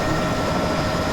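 Bell 206B3 JetRanger helicopter in a flight simulator, a loud, steady rotor and turbine drone holding even for about a second, no speech.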